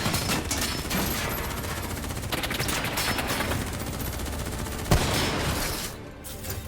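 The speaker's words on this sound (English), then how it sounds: "Who's shooting?" Sustained video-game gunfire rattles in dense, rapid volleys for several seconds, with one sharp louder crack near the end before the shooting eases off.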